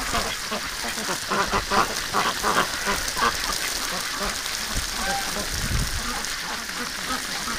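Wintering ducks and geese quacking and honking during a bath in snowy conditions, repeated calls over steady hissing spray of water, with occasional talk.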